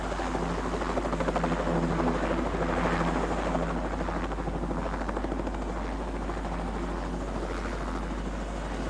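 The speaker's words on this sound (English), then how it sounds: "Waligundua kabisa kama ni helikopta ya Kimarekani." An American helicopter flies steadily overhead, its rotor chopping loud and continuous throughout with a dense low thrum and broad noise. No voices can be heard.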